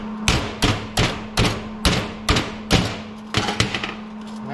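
A metal hammer strikes sheet metal on a DeLorean lower control arm about ten times, in sharp, loud, close blows at a steady rhythm, with a faint hum underneath.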